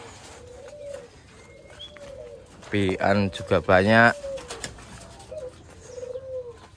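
Turtledoves coo in a short burst of soft, throaty calls, close by in an aviary with newly hatched chicks being fed, while a person talks quietly before and after.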